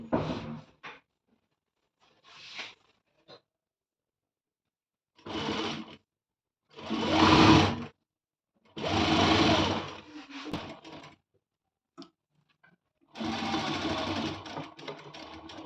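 Sewing machine stitching lace onto the hem of a velvet blouse, running in several separate bursts of motor whir with short pauses between, close and fairly loud.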